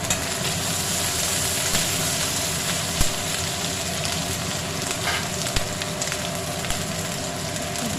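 Green chillies and tomato fry in a pan for a duck egg and potato curry, making a loud, continuous sizzle with occasional clicks of stirring and no voices.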